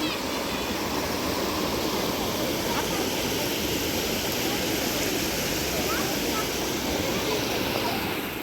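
Karinkappara waterfall, heard as a constant, dense rushing roar of falling water that fills the whole stretch evenly at moderate loudness, with no pauses or voices.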